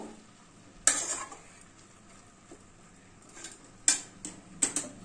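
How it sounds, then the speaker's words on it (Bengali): Green peas stirred into a frying vegetarian cabbage curry: a soft sizzle runs throughout, with a few sharp spoon or utensil clinks against the pan near the start and again toward the end. "আমি এই সময় এখানে মটরশুঁটিগুলো দিয়ে দিলাম, দিয়ে এটাকেও একটু নাড়াচাড়া করব।"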